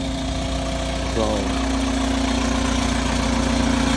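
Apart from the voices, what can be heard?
Cummins diesel engine idling after VE pump installation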